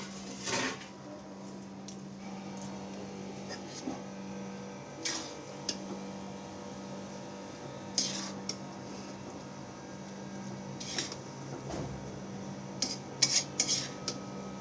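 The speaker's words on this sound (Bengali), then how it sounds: "এরকমভাবে অল্প অল্প করে আমি চাউমিন দেবো, সসের সাথে মিক্স করে নেবো।" Utensil scraping and tapping in a pan while veg chowmein noodles are mixed with sauce, light clinks and scrapes at irregular intervals over a low steady hum, close but fairly quiet, no talk.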